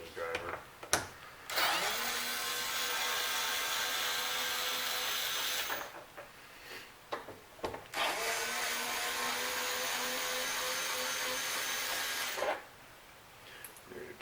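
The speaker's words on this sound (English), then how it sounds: "There's my nice little handy dandy little mini driver." A small handheld power driver whines in two long, steady runs as it backs out transmission cover bolts on a 2014 Lincoln MKS. There are brief clicks and pauses between the runs.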